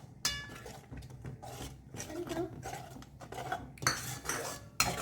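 A spoon scrapes and clinks around a pan while yogurt is stirred into palak paneer, irregular rubbing strokes and metallic taps, close and moderately loud, with a sharp knock near the end.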